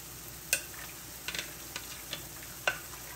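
Peppers and onions fry in a pan with a faint, steady sizzle, broken by a few sharp utensil clicks and taps. No one speaks.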